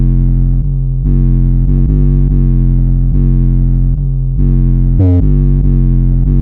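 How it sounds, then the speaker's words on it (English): Heavily distorted, booming 808 sub bass notes from the beat of Playboi Carti's POP OUT, made in FL Studio, pulse in a slow pattern, loud and saturated, with a short glitchy accent near the end. "Paired with the sub bass and the distortion of the whole beat"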